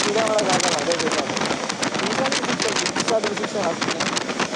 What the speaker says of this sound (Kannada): ಗಾಯ್ಸ್ ಮಳೆ ಬರೋ ಥರ ಇದೆ